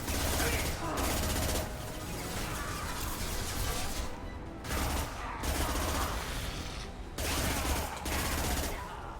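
Sustained bursts of loud gunfire in Mass Effect 2, long automatic volleys with brief pauses between them, with voices talking underneath.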